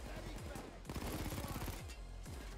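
Gunfire in PayDay 2 rattles in quick, dense automatic bursts, fairly quiet and somewhat distant, with brief pauses between volleys and some faint voices mixed in.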